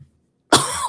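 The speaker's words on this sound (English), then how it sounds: "There's that cough attack." A single harsh cough from a man bursts after a moment of silence, close and loud, followed by a brief second rasp at the end.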